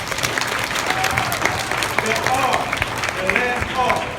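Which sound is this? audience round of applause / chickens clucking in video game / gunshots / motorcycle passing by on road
audience round of applause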